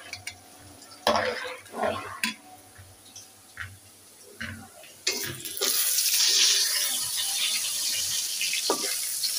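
Dal curry with fish being stirred in a pot in a home kitchen, giving irregular scraping and sloshing stirs, followed by a steady wash of sizzling or running water; no talking.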